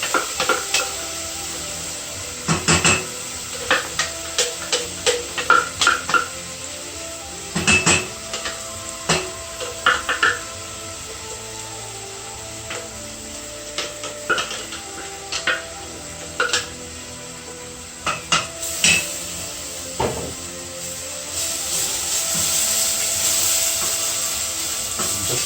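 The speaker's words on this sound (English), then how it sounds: "We're going to take our paste, all of it. We're going to fry it on a low heat." Curry paste fries on low heat in coconut butter in a pan, with a gentle sizzle under frequent close clanks and scrapes of a utensil against the pan.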